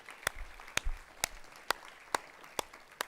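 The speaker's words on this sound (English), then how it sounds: "let's give those a round of applause for" A few sharp, widely spaced claps ring out at a school assembly, quiet and sparse rather than full applause, with no one talking.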